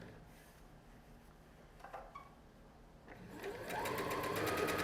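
A sewing machine stitches a fabric face mask seam with no backstitching, starting faintly and then running steadily and close for the final second and a half, with a few soft handling noises beforehand.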